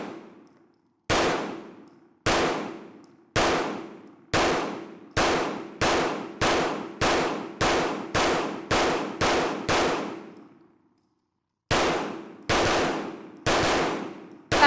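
A 2011 pistol fires Norma 124 grain ammunition in a string of sharp, loud single shots. Each crack rings briefly, with irregular spacing and a quicker run in the middle. After a short pause a few more shots follow.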